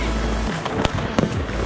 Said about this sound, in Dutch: Ja, die knallen best hard, die had je echt groot.